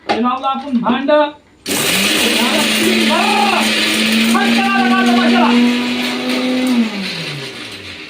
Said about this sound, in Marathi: मला एवढा मसाला द्या काढून मिक्सरमधून